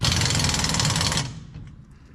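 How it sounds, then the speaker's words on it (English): A weak impact wrench tightens lug nuts on a 1963 Chevy Nova, a loud rapid hammering rattle that runs steadily for about a second before cutting off and fading. "not the proper way to torque down lug nuts, but this impact is really, really weak, so it'll work"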